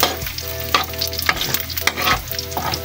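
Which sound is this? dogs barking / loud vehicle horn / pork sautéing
pork sautéing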